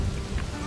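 In the stealth game Shadow Tactics: Blades of the Shogun, rain patters in a soft, steady, fairly faint wash, with no voices over it.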